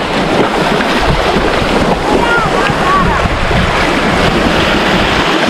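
Big waves churn on a lake in Latvia, a loud, continuous wash of surf mixed with heavy wind buffeting the microphone, with brief faint voices underneath.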